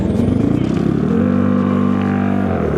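An engine-mimicking sound from an electric motorcycle's sound system plays as a loud, steady, throbbing hum that holds one pitch for about two seconds, then stops.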